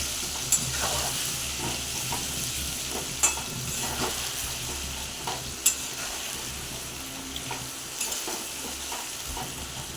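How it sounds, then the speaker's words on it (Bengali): Potatoes fry with salt, turmeric and bay leaf in a kadai wok, giving a steady, loud sizzle and hiss. Occasional sharp stirring clicks and scrapes cut through at intervals. "নুন হলুদ দিয়ে একটু ভাজা হোক।"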